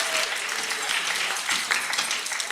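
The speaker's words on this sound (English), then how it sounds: "Let's give them a round of applause for bringing the story to life." A room full of people applauds after a Megillah reading performance, with brisk, dense clapping and a few sharper individual claps standing out, fairly close.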